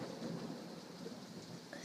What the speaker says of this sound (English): It's my first thunderstorm.